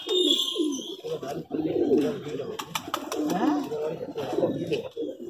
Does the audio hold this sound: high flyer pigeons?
yes